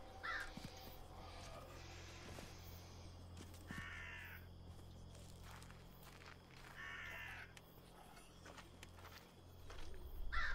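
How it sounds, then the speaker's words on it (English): Crows in the video game Sign of Silence caw in several separate bursts over a low, steady ambient hum, with faint footsteps between the calls. "There's birds up ahead."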